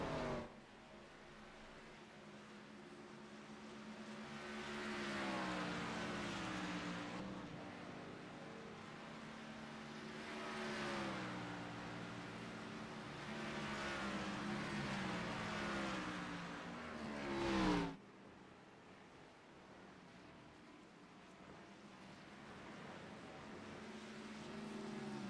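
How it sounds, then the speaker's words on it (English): A sim racing video game car swells and fades as the throttle is feathered through a corner, the engine note rising and falling in several smooth waves before cutting off abruptly near the end, fairly quiet overall. "You can hear Cody feathering the throttle around the carousel."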